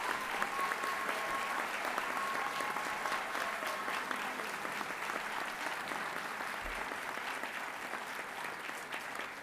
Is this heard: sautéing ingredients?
no